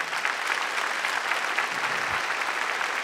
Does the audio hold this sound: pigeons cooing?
no